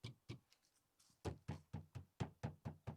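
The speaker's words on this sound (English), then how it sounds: "Sometimes you'll notice a knocking or a rattling or shaking noise, especially when you're going over turns or bumps in your truck" Knocking rattle from a Chevy/GMC truck door with worn door seals, as on a 2007-14 Tahoe, Yukon, Suburban or Silverado: a series of sharp, hollow knocks, a few spaced and soft, then a steady run of loud, evenly timed thumps close by.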